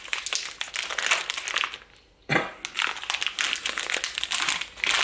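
Crinkly foil-and-plastic wrapper of a Cadbury Marble chocolate bar being torn open and unwrapped up close, loud continuous crackling with one brief pause midway.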